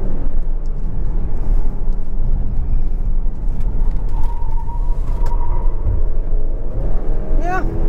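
A 2022 Subaru Ascent Onyx Edition driven hard in a handling test with traction control off, a loud steady engine and road rumble throughout, and a brief tire squeal near the end.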